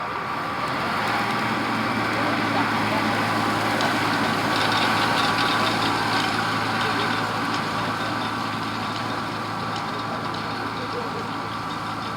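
A tractor-driven six-rotor tedder working across a field, giving a steady, loud engine drone with a dense rattling, whirring mechanical texture that stays constant throughout.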